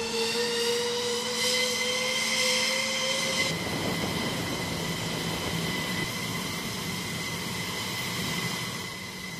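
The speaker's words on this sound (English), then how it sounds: "the aircraft begins taxiing to the active runway" F-15 Eagle jet engines running on the ground before taxiing, a steady close roar with a high sustained whine that shifts partway through and then holds even to the end.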